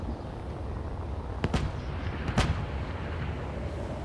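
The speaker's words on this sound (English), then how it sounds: "Something exploded over here." Explosions in the video game Space Engineers, two sharp distant blasts about a second apart over a constant low rumble of battle ambience.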